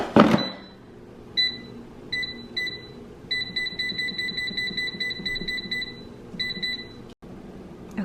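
Repeated bright electronic beeps from an air fryer cooking green beans, sounding in short clusters and then a longer run of pulses over a low background hum, fairly close and clear with no speech.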